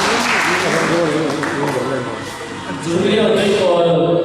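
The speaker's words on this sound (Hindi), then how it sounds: "जोरदार ताली हो जाएगी" An audience at a stage event breaks into dense, sustained clapping that stays loud throughout, with a voice or music carrying over the applause.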